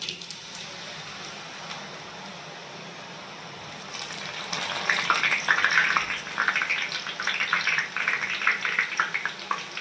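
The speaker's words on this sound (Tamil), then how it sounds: "இப்போ பாருங்கள், எண்ணெய் ஊற்றி ஆயில் காஞ்சிருச்சு. இப்போ வந்து நம்ம புழிஞ்சிக்கலாம்." Mixture dough pressed into hot oil in a home kitchen, frying with a crackling, bubbling sizzle that starts quietly and swells louder midway, then keeps popping steadily; no talking.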